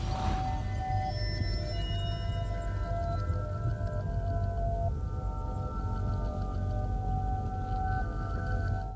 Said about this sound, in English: the portal has a very unique sound that most players should be familiar with